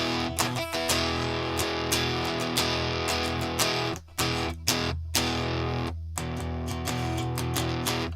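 An electric guitar plays through a tiny LEKATO PA1 pocket amp with a clean but slightly crunchy edge, chords and notes ringing steadily with brief gaps between phrases.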